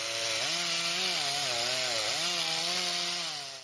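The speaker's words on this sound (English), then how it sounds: "Noise from mechanical saws" A mechanical saw drones with a buzzing, harmonic whine whose pitch dips and rises as it bites into wood, loud and close, running alone before trailing off at the end.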